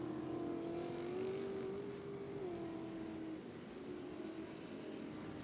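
A steady engine drone from a distant off-road Pro Lite racing truck at Crandon, holding a constant roar with slight rises and falls in pitch throughout.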